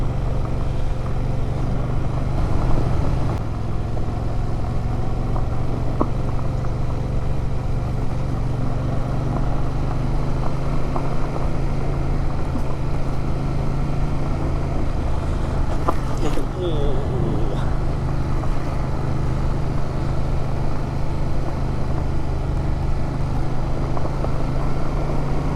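Yamaha MT07 streetbike riding along a gravel road, a steady droning engine hum with wind rush and tire crunch running continuously throughout.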